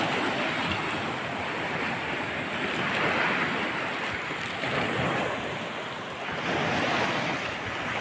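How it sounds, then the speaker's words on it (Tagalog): Strong waves surge and break continuously against a rocky shore, a loud, steady roar of surf with wind buffeting the microphone, swelling and easing slightly throughout with no voices. "Ngayon kasi, laging malakas ang alon."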